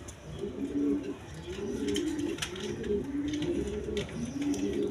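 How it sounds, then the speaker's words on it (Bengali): A pair of high flying Giribaz pigeons coo close by in repeated, rolling low calls, one after another, over faint background noise. "এখানে এক পেয়ার হাই ফ্লাইং গিরিবাস কবুতর আছে"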